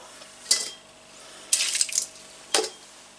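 Cormo wool fleece is shaken up and down in soapy wash water, giving three short watery sloshes about a second apart, each a brief splashy burst that quickly dies away.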